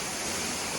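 Flowing water at a scenic viewpoint rushes in a steady, dense roar, close and constant through the brief moment, with no voices over it.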